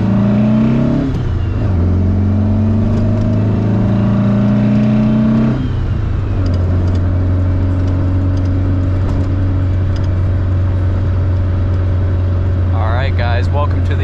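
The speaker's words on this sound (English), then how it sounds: "We'll take it on a short drive, see how she does." A 1965 Volkswagen Beetle engine drones steadily from inside the car while driving, its pitch rising through the gears with shifts between, a continuous close-up hum throughout.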